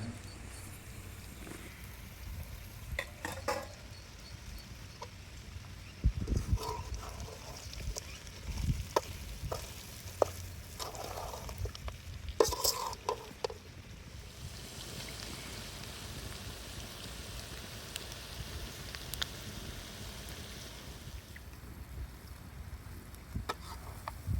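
Chicken pieces fry in ghee for a ghee roast, a soft steady sizzle broken by scattered scrapes and clinks of a spoon stirring the pan, quiet and without talk.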